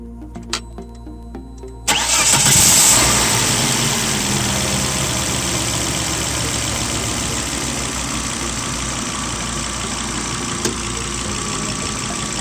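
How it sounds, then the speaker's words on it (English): A Volvo car engine cranks and fires after a short quiet stretch, then settles into a steady, close idle that runs unbroken to the end. "We're going to fire up the vehicle."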